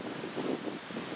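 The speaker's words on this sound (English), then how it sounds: "Well, it's a bit blowy now" Blustery outdoor wind buffets the microphone with a low, rumbling roar that swells and eases in gusts, with no other sounds standing out.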